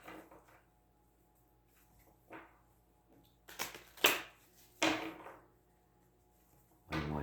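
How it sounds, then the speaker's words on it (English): A Deviant Moon tarot deck being shuffled by hand, giving a few separate riffling card bursts and soft papery snaps spread over several seconds in a quiet room, close and fairly faint between them. "One more shuffle."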